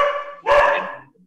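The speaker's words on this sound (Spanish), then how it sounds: "Tenemos al perro." A dog gives a single short bark, loud and close, preceded by a brief whine-like tone and fading out quickly.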